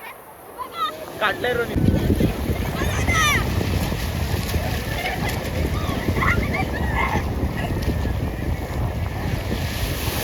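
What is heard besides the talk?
big sea wave at the Konkan coast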